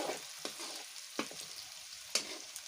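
Meat being stirred in a hot pan gives a soft, quiet sizzle, with a few distinct scrapes and knocks of the spoon at irregular intervals.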